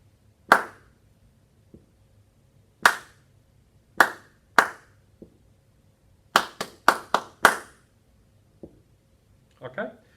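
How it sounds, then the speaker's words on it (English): Hands clap out a rhythm for a dictation exercise, sharp single claps spaced unevenly with a quick run of four near the middle, close and clear against near silence, with faint murmurs at the end. "obviously I'm not going to say it as I clap it"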